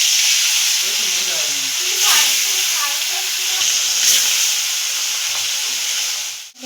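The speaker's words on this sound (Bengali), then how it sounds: "এবার মাছগুলো আমরা একে একে ভেজে নেব।" Salt-and-turmeric-coated bhola fish fries in hot oil, producing a loud, steady sizzle and hiss close by, with a few brief swells and faint background sounds.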